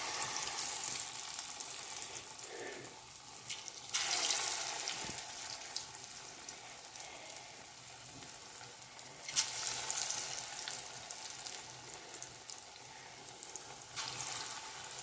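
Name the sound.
lentil fritters (motor dal bora) frying in hot oil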